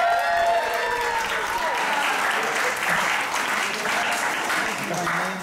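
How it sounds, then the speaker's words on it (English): Audience at an improv holiday show applauds loudly and steadily, clapping sustained throughout, with a voice talking over it near the start. "Give Jesse a round of"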